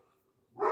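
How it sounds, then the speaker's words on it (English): A neighbor's dog lets out a single short bark in the background, abrupt after near silence. "that's why you're hearing the barking in the background"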